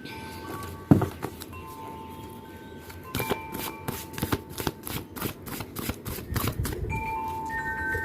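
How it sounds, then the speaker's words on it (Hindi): Tarot cards shuffled by hand in a quick rhythmic riffle, a crisp flurry of papery slaps and flicks close to the mic, with a sharp knock near the start and denser bursts toward the end. "मैं कार्ड को फिर से मिक्स करूँगी"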